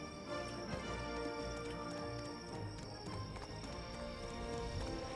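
Horse hooves clip-clopping in a quick, steady rhythm in the game Black Desert Online, over a constant background of game music and ambience, moderately loud and close.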